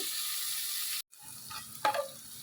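Food fries in a pan toward light brown, a loud steady sizzle that cuts off abruptly, then returns quieter with a few stirring scrapes and clinks.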